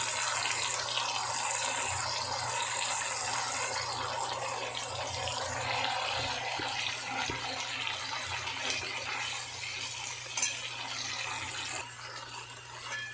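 Water runs steadily to rinse leftover spice paste into a pan while making garadu curry, a continuous splashing flow heard close and alone with no talking.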